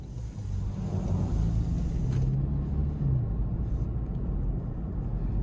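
A 2026 Toyota 4Runner Hybrid TRD Off Road Premium accelerating in sport mode onto an interstate, heard from inside as a steady low engine and road rumble with a faint rising whine partway through.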